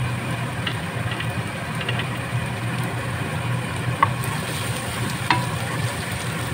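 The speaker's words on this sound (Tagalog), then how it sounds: "haluin na natin hanggang sa mag-light golden brown ang ating chopped garlic" Chopped garlic sizzles and fries steadily in a hot pan, with occasional scrapes and clinks of a spatula stirring it, close and continuous with no talking.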